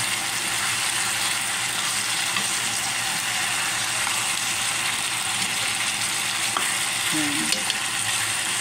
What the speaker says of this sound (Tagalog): Hanggang siya ay medyo maprito-prito lang po yung mga gulay